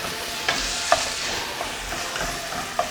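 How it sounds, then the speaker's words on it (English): Meat and onion stirred and fried together in a pan, a constant sizzle broken by several sharp scraping clicks of a utensil against the pan, close up with no voices. "Now you make sure that you mix the meat and onion thoroughly, so all your meat is"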